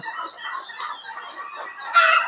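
Native country chickens cluck continuously close by, overlapping soft calls with one louder, sharper squawk near the end.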